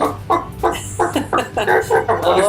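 Chicken clucking sound effect: a rapid series of sharp, close clucks and squawks in an irregular rhythm, loud and clear with no talk over it.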